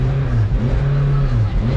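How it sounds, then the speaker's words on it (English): A powerful car's engine revving close by in Inner Mongolia, a deep steady rumble with rising and falling pitch across a short burst. "Now, I'm in a car that has a lot of horsepower."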